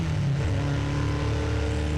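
Race car engine held at a steady high drone, close and continuous with no talk, as the driver tries to keep it in the power band just before the green flag at a vintage race start.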